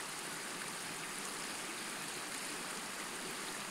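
A small Finnish stream in winter rushes and gurgles steadily, a dense, even wash of flowing water close to the listener with no other sounds breaking through.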